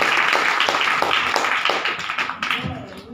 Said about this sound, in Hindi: बस तालियों से आपका स्वागत कर सकते हैं